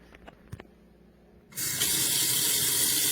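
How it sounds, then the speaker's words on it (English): Water from a tap gushes into a kitchen garbage disposal sink packed with ice and rock salt. A few faint clicks come first, then the tap turns on and a loud, steady rushing stream carries on to the end. "And then we'll turn on the water."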